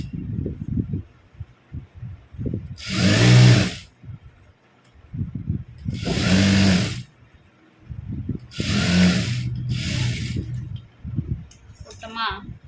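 An electric sewing machine stitches cloth for a puff sleeve in three loud whirring bursts, each a few seconds long, close up, with someone talking between and around them.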